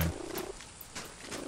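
Cat purring in the game Fireflies, a short, low, rumbling purr close by, lasting about half a second before fading into faint background noise, with no talk.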